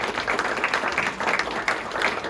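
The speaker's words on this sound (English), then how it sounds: "let's give Bob a round of applause" An audience at a panel discussion commemorating May 4th gives a round of applause for the evening's host. The clapping is short and fairly loud, with some crowd noise mixed in.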